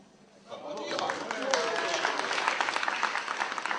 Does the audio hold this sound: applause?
yes